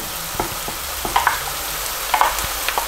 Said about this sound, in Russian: Курочка тоже должна обжариться с обеих сторон.